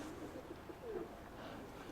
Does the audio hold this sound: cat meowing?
no